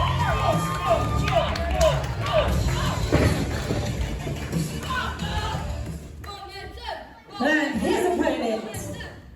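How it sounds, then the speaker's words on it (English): An independent wrestling crowd cheers loudly for Mo and Hamza at a Blackheart Wrestling show, with chanting voices, shouts and thuds mixed together, dipping briefly near the end before surging again. "You hear the crowd explode with a massive cheer when they see Mo and Hamza"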